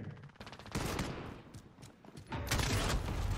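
Dense gunfire from the Call of Duty: Modern Warfare video game, including shotgun blasts, comes as a steady run of rapid, loud reports with heavy low booms and a stronger burst at the end.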